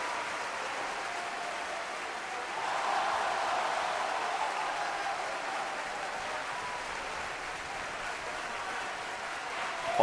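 A virtual arena crowd in the WWE 2K18 wrestling game roars in a continuous, even wash of cheering and applause, moderately loud and swelling slightly early on before settling.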